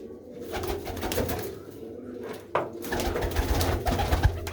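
Kept pigeons coo in a loft, low throaty murmurs running steadily beneath a rough background hiss, with one brief sharper knock midway.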